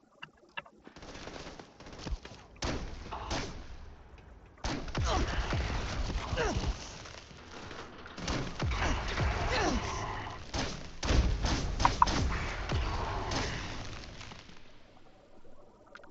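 A homemade freeze ray fires in the video game Gorefield, with rapid bursts of blasts and thuds in uneven clusters. A voice talks over parts of the shooting.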